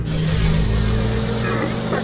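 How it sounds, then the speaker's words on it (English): Spaceship engines firing in a Star Wars battle on Saleucami, a loud, steady low roar with a droning hum that holds throughout and swells slightly near the start. "Fire the engines!"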